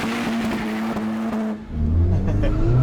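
A 2023 Honda Civic Type R engine holds a steady high rev on launch control, then drops briefly before the car launches with a deep, rising roar, loud and close from inside the cabin.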